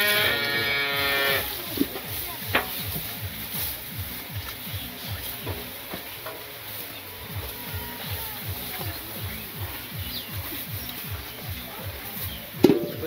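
Cattle in a Bangladeshi village, with a moo-like call among continuous farmyard noise and rhythmic low thumping, heard nearby without speech.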